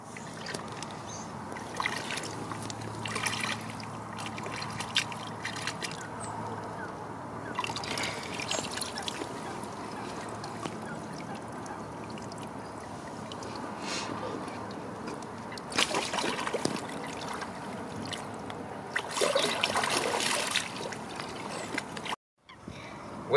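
Water trickles and splashes steadily as a carp is released back into a gravel-pit lake, with brief louder splashes near the end and low sounds of handling, and no one talks.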